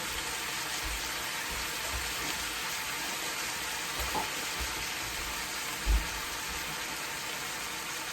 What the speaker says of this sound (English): So I'm adding in my mince.